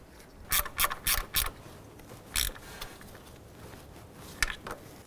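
A ratchet wrench tightens a 10mm nut onto a bracket on a 2001-2007 Ford Escape during PCV valve hose work: four quick close clicking bursts, then a pause, a single click and two last clicks, fairly quiet.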